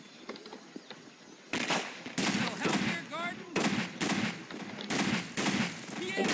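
A ceiling turret in the game Garry's Mod fires rapid automatic bursts, loud and close, in several separate volleys broken by short pauses, with a voice crying out between them.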